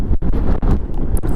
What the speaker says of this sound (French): Il y a un vent de ouf les gars